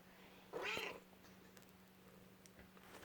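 One short cat meow rises out of a quiet room with a low electrical hum, then only faint background noise follows.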